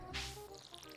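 A short watery squish and drip in the farming game Stardew Valley, soft and close, standing alone without talk.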